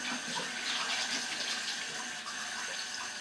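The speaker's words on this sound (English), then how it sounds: "I like to use cold water to rinse." Tap water runs steadily from a faucet into a sink for a cold rinse after a shave, a continuous close hiss with no voices.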